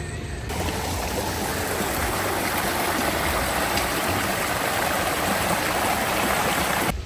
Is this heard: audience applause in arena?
no